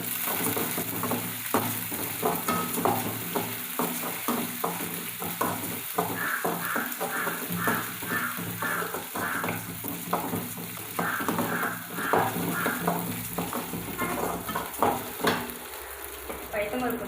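Mustard seeds and moong dal frying in hot oil in a pan, giving a busy, close crackling sizzle with rapid pops and sputters throughout, no talking.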